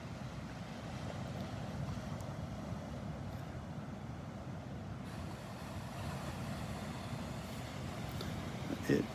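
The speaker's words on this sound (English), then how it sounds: "There's a little bit of a breeze kicking up here." Breeze and gentle surf on a beach at Delnor-Wiggins on a calm morning, a steady broad wash of wind and low rolling waves that continues without break.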